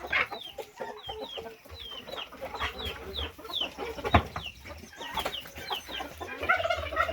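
Many hens cluck and chatter together in a busy chorus, with rising calls overlapping and an occasional knock in the background.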